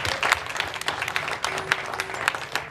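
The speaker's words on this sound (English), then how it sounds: "Let's give them a round of applause" A convention audience at TrotCon 2021 breaks into a round of applause, dense crowd clapping sustained throughout, fairly close and lively.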